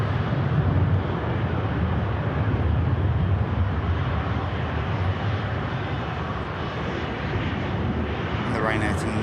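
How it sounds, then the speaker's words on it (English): A Ryanair airliner on its takeoff roll at Manchester Airport, bound for Naples, sounds as a broad, steady jet roar with wind buffeting the microphone, sustained and fairly loud, while a commentator talks over it. "And the Ryanair to Naples rotates."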